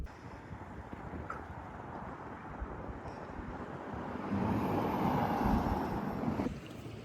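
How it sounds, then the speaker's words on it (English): Strong wind blowing across Honister Pass in the Lake District, a constant rushing buffet against the microphone that grows louder and gustier midway before easing slightly. "Oh my goodness, it's very windy."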